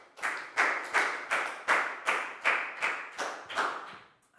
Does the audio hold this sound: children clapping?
yes